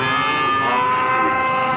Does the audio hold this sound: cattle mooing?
yes